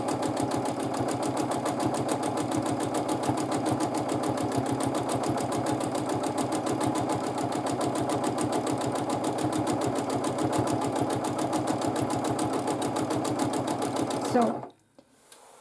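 A sewing machine stitches at a fast, steady rhythm during free motion quilting of a layered quilt sandwich, close and continuous with an even needle clatter, then stops abruptly near the end.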